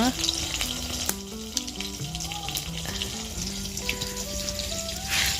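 Fish fry in a pan with a loud, close, continuous sizzle, while faint tonal background sounds drift underneath.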